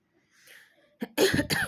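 A person coughs near the microphone, a quick cough followed by a harsher, longer burst after a quiet breathy lead-in.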